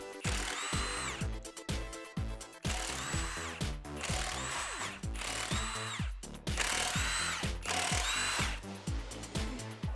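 A power tool works the wheels off a Jeep Wrangler JK, its drill-like whir rising and falling in repeated bursts with short pauses between them, loud and close throughout.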